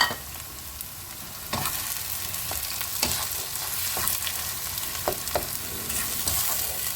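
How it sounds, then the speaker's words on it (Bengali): Spices and a chopped tomato frying in a pan for Bengali katla fish kalia, a steady loud sizzle with repeated scraping stirs of a spoon, no voices. "চলো সব মশলাগুলো মোটামুটি একটু ভালোভাবে ভাজা হোক"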